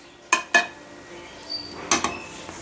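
A few sharp clinks of a wooden spatula against a pan of rice in ghee, two quick pairs of taps separated by a pause, close and fairly loud.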